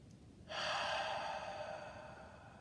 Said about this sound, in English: So take a deep breath in through the nose.